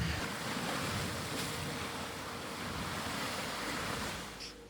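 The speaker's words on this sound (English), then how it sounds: "the sound of the ship just pushing the ice apart" The expedition ship Ocean Albatros forces its way through frozen pack ice off Svalbard, giving a steady, dense roar of churning ice and water with gusts of wind across the microphone, loud and unbroken throughout.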